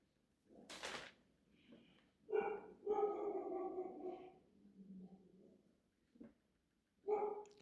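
Dogs bark in a home, a few separate barks and a drawn-out whining yelp spread across several seconds, fairly faint and with no talking.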